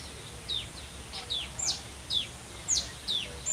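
Warblers gathering leaves to nest at Disney's Animal Kingdom give a string of short, high chirps at irregular intervals, faint against a soft outdoor background.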